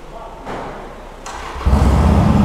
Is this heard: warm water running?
no